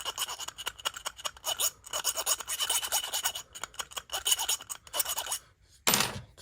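A file rasps back and forth, taking a burr off the inside of a windscreen part for an AK Cobra kit car, with quick, close, steady strokes and a short pause near the end.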